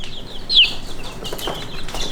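Skittish Red Mottled Ancona bantam chicks giving a short, high peeping chirp up close, followed by faint scattered cheeps and light rustling.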